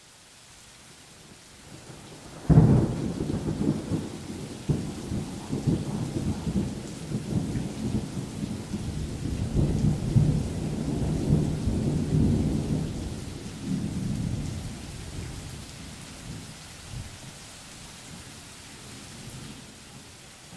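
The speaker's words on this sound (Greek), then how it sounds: "Αυτό μας έλειπε τώρα. Άρχισε να βρέχει." A sudden thunderclap breaks into steady heavy rain, with rumbling thunder rolling through the downpour before slowly fading, loud and continuous.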